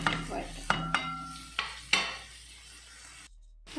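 Green peas curry ingredients being sautéed and stirred in a pan, with a few distinct clinks of a spoon against the pan over a faint sizzle, close and fairly quiet, then a brief near-silence at the end.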